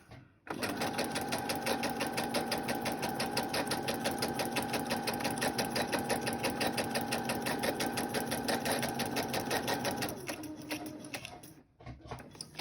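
Sewing machine stitching steadily around a paper envelope, a loud, fast continuous mechanical rattle that runs for about ten seconds, then slows and stops, followed by a few brief handling sounds.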